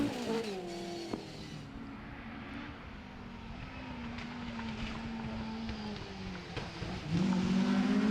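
A Vauxhall Corsa rally car on a stage at Oulton Park, its engine note rising and falling as it works through chicanes, heard at moderate distance with shifting revs throughout.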